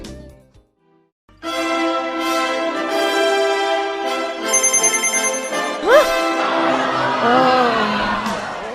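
A mobile phone plays a loud, steady melodic ringtone inside a performance hall, followed near the end by rising whooping cries and crowd noise.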